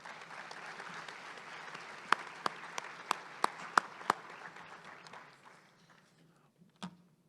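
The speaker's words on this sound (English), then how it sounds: "Let's give them all a big round of applause." Audience at a chamber of commerce monthly luncheon giving a round of applause, soft, diffuse clapping in a room with a few sharper close claps standing out, fading away after several seconds.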